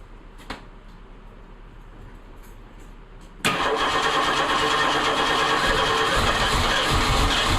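A Ford Mustang's engine cranks and fires after a quiet moment with a small click, catching abruptly and settling into a loud, steady idle rumble close by.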